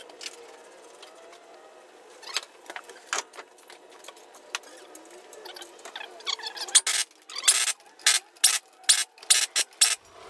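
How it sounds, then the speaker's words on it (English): A ratchet cracks loose the fill plug on a 2018-2020 Ford F-150 limited-slip differential, giving a run of close, sharp clicking bursts that grow louder and quicker toward the end, with no talk. "You just take your ratchet, it has the same square head, and crack that baby loose."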